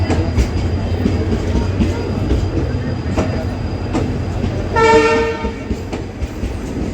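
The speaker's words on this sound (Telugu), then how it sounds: "ట్రైన్ వచ్చి 10 minutes బిఫోర్ వచ్చేసింది." The Basava Express at Bijapur railway station, a loud, steady rumble of rail cars and wheels with a short horn blast in the middle.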